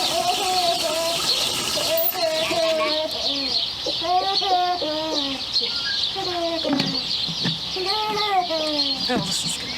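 Chickens cluck and call in repeated close bursts throughout, several birds overlapping with occasional louder squawks.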